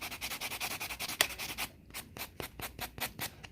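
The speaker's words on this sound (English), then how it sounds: "I'm just gonna buff the top just a little bit" Buffing the top of a polygel nail, rapid close rhythmic scratchy rubbing strokes, fast and continuous at first, then slower distinct swipes.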